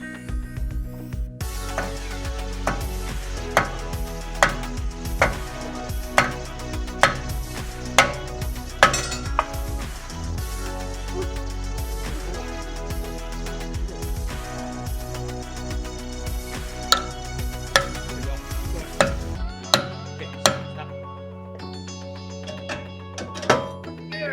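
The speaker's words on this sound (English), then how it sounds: "I'll hammer this up to loosen up the rotor." Repeated sharp metallic hammer blows loosening a brake rotor on a BMW E9x M3, struck at a fairly steady rhythm, loud and close over a constant low hum.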